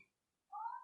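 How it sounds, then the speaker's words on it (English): A cat gives a single short meow in the background, faint and brief, heard after a moment of near silence. "that is my cat in the background right there."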